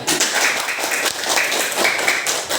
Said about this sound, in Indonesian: Semangat tepuk tangannya. Ulang tepuk tangannya.